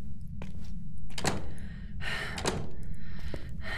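A door opens somewhere in a video game asylum map, heard as a few soft, distant thunks over a steady low hum with faint breathy noises.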